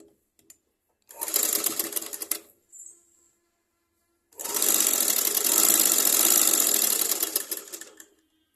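Sewing machine stitching piping onto a blouse, a short burst of fast mechanical whirring, a pause, then a longer steady run of close, loud stitching.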